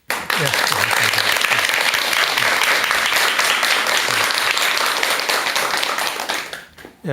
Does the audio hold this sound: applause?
yes